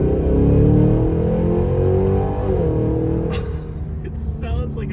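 A Cadillac Escalade V with a free-flowing factory exhaust roars loudly under throttle with a deep, droning rumble that fades slightly as the car pulls away, while a voice briefly speaks near the end.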